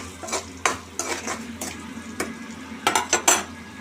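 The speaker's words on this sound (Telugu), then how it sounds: "పచ్చిమిర్చి వేసిన తర్వాత ఈ ఫ్రై కావాలి, మంచిగా ఫ్రై కావాలి ఫ్రెండ్స్" Green chillies and onion frying in a pan for an egg masala, a soft sizzle broken by sharp scrapes and clinks of a spoon stirring against the pan, several quick strokes toward the end.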